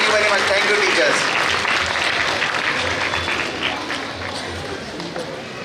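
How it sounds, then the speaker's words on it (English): Loud, sustained applause from a school audience at a Republic Day celebration for the teachers, steady clapping that gradually fades slightly toward the end. "उनके लिए एक मरतबा ज़ोरदार तालियां हो जाए"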